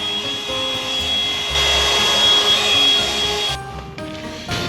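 A loud vacuum cleaner runs up close while a truck interior is being cleaned, a steady whining motor with rubbing and bumping shifts as the nozzle moves around.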